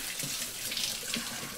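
Water runs from a shower as a steady, close hiss of spray, continuous and even for the whole moment, with no voices over it.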